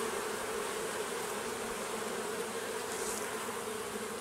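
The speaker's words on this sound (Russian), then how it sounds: "Вот пчелка лазит тоже." A bee crawls over a bunch of freshly cut wormwood before flowering, its steady close buzzing droning continuously and fairly loud, with no voices.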